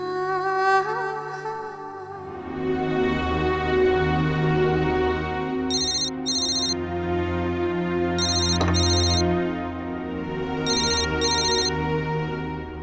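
A telephone ringtone plays while a call is being placed, a steady electronic melody repeating alone with short high trilling bursts recurring every few seconds and no talking.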